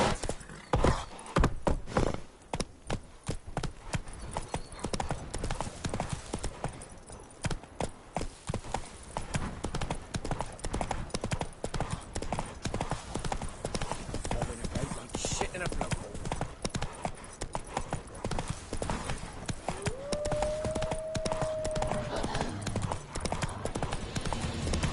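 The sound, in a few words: horse galloping in video game The Witcher 3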